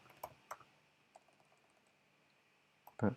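Quiet computer keyboard typing while writing C++ code gives a few sparse, soft key clicks scattered over a few seconds, ending in a louder cluster of taps close to the microphone.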